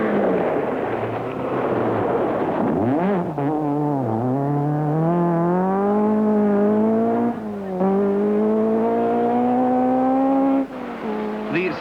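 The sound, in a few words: Ford Escort rally car at 1972 Welsh rally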